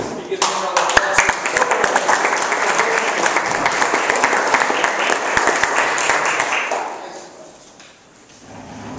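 Audience applause at a jazz quintet performance, close, dense clapping with sharp individual claps standing out, running for several seconds before fading away, with a voice speaking over it.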